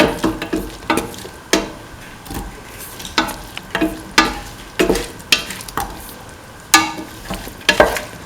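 Green chillies and cauliflower pieces frying in a pan with salt, stirred in a steady rhythm of sharp scraping strokes over a continuous sizzle, loud and close with no talking.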